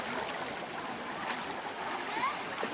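Water streams splash and rush at a waterfall deep in rural Thailand, a constant nearby roar with brief splashes and people talking faintly underneath.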